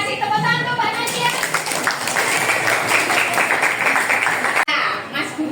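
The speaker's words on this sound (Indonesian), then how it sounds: "tepuk tangan untuk Mbak Nadia" An audience clapping for Mbak Nadia in a classroom-style gathering: a dense burst of applause with some chatter and light laughter that breaks off sharply near the end.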